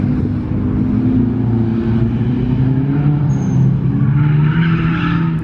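A BMW E92 M3 sliding sideways up a hill at Lime Rock Park, its engine droning loud and steady while the tires scrub and squeal through the drift, heard close from inside the car.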